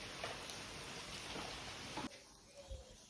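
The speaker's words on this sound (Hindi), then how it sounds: "और सुबह सुबह इतनी बारिश आ रही है, देखो।" Heavy early morning rain falls outdoors as a broad, steady hiss, then cuts off abruptly partway through, leaving quieter room sound with a few soft knocks.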